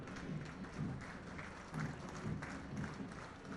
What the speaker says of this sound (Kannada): ಈ ಹೆಮ್ಮೆಯ ಪೊಲೀಸ್ ಇಲಾಖೆಗೆ ಬರಲಿ ತಮ್ಮೆಲ್ಲರ ಜೋರು ಚಪ್ಪಾಳೆ